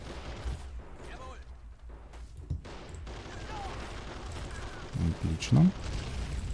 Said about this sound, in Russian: Ну да, он просто решился на гранату бросить.